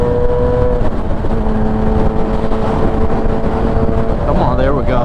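A 2017 Yamaha R6 sport motorcycle engine drones steadily while riding, its tone held near constant with a slight rise toward the end, loud and continuous under wind rush.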